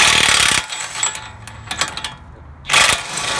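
An impact driver rattles in two loud bursts on a 2006-2011 Honda Civic CV axle bolt, with quieter clicks and mechanical noise between the bursts, close by.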